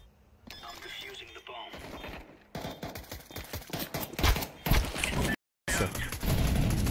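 Rapid gunfire in a tactical shooter video game, dense bursts of automatic shots growing louder toward the end, with one abrupt gap, while a player talks over the action.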